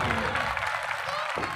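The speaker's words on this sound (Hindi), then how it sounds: "जोरदार तालियां" An audience at an annual school function breaks into a short, dense burst of applause that lasts under two seconds.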